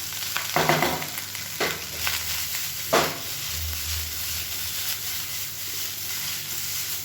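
Egg fried rice is tossed and stirred over a high flame, with loud scraping strokes in bursts over a continuous close sizzle and a low rumble of the burner; no talk.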